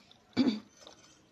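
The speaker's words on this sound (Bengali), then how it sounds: "মানে আমার কাশিও হচ্ছে, মনে হচ্ছে ঠান্ডা লেগেছে" A single short cough from someone with a cold, close and on its own, with a throaty burst followed by quiet.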